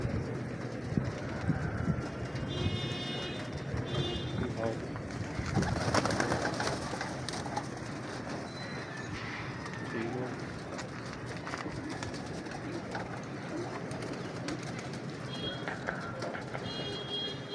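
Pigeons coo softly in repeated low throaty calls against a busy outdoor background, with a person talking now and then.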